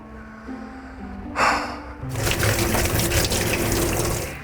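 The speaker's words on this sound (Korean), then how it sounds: "차가운 물에 씻어주면 돼요. 흐르는 차가운 물에." Cold tap water runs steadily to rinse pork back ribs in a kitchen sink, a broad continuous splashing stream starting partway in after a brief burst, with no talking.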